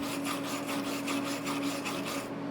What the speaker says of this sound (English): I got a wire brush. Carbon steel wire brush